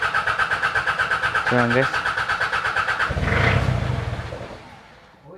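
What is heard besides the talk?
Mitsubishi 4D56 diesel engine cranking, starting, then dying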